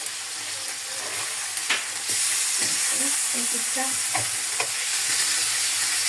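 Whole chicken frying in oil in a frying pan on a stove, a steady broadband sizzle with scattered clinks and scrapes of stirring, a voice briefly speaking over it.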